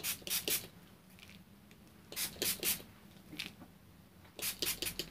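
Several short hissing bursts of spray from a bottle come in clusters with pauses between them, close and fairly crisp, with no talking.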